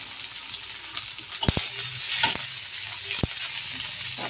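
Tomato paste and salt go into a pomfret curry frying in a pan, a steady sizzle broken by a few sharp clinks of a spoon against the pan.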